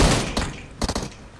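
Gunfire in a battle royale video game custom room: a few short, sharp bursts of shots crackle over a busy, noisy game mix.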